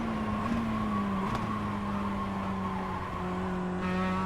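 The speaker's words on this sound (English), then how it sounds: "This is the sound that the car is making when you are downshifting the right way" A racing simulator car engine drones steadily while downshifting, its pitch dipping and settling as the gears change, with a faint tire-like whine running throughout.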